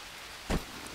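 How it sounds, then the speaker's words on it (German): Rain falls steadily in the jungle survival video game Green Hell, a continuous hiss of drops with one brief louder splash or thud in the middle. "Wenn es regnet, steigt der Flussspiegel."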